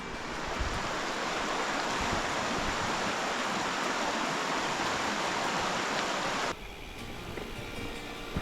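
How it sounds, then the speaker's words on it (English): Steady, dense rush of river water flowing beneath an old bridge near a former train trestle on a wild nature trail, loud and continuous, easing slightly toward the end with no voices. "Now I'm coming down by the river to check out the water flow."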